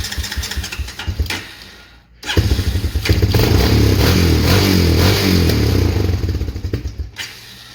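A small engine with recent carburetor trouble sputters, briefly dies and then catches, settling into a loud, close, rough running rumble with a throbbing rhythm before cutting out near the end.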